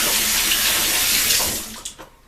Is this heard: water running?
yes